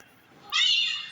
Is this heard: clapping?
no